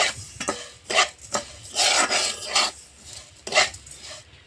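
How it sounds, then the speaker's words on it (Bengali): Sugar stirred and lightly fried in a pan, bursts of gritty scraping and rasping as the spoon drags through the granules, close, separated by short quiet pauses, no voices. "এবারে চিনিটাকে নাড়িয়ে নাড়িয়ে একটু হালকা ভেজে নেব"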